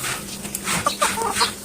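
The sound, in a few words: chickens clucking while being fed rice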